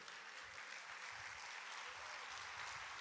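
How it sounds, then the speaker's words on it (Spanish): Audience applause during a Spanish-language faith talk, a quiet, distant wash of continuous clapping with no single claps standing out. "Yo no sé usted por qué está aplaudiendo"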